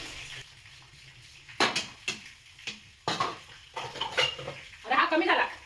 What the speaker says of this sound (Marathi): नाश्ता झाला पण भांडी बघतो